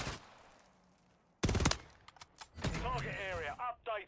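Video game gunfire from a player's gun, a sharp burst of rapid shots after a quiet start, then scattered pops mixed with someone talking over them.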